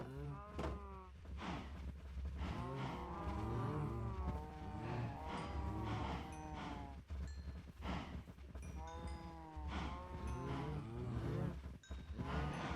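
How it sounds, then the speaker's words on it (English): Many Minecraft cows crowded in a breeding pen moo continuously, their overlapping calls forming a dense, steady chorus with no talking. "Let me breed my cows some more. I need more cows."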